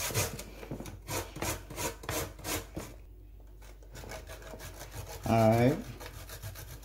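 Sweet potato rubbed against a hand grater for a pudding, a run of rhythmic rasping strokes close by, then a pause and a brief spoken word.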